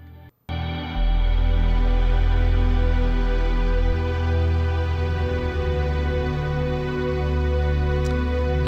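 Layered orchestral strings lifted from a 2011 trance remix play on their own, a full sustained wash entering after a brief silence and swelling steadily with a heavy low end.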